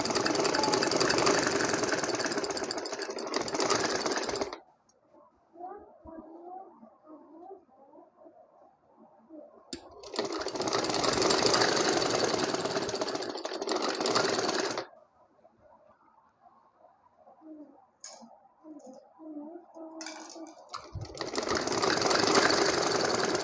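A sewing machine stitches ribbon and extra cloth onto a cut-work sleeve, running in loud sustained bursts of several seconds each with quieter pauses between them.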